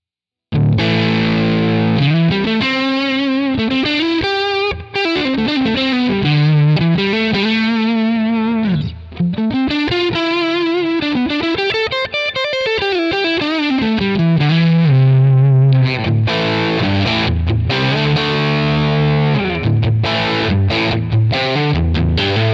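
High-gain electric guitar played through Amalgam amp captures on a Nano Cortex and a Tonex: loud, continuous distorted riffs and sustained melodic lines with chugging chords, heard alone with no talking.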